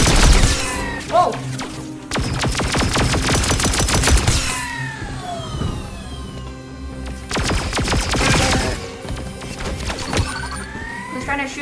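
Rapid bursts of blaster gunfire in a Star Wars VR shooter, with dense volleys of sharp, close shots separated by short lulls, layered over game effects.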